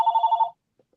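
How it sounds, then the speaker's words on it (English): A landline house phone rings indoors with a close, loud electronic warble of rapid pulses that lasts about half a second, then stops, leaving near silence with a couple of faint ticks. "No, that's my phone. That's the house phone."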